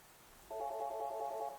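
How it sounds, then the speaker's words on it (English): A VoIP desk phone on an office line rings for an incoming call, a steady warbling electronic tone lasting about a second, clear and close, starting after a brief quiet pause. "and you can hear it ringing."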